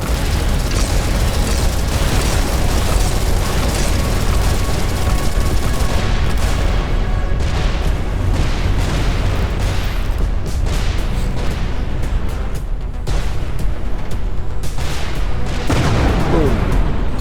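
Turret guns and a scatter gun on a spaceship in Everspace 2 fire in a dense, continuous barrage of booming bursts and pops, loud and close throughout with no pauses.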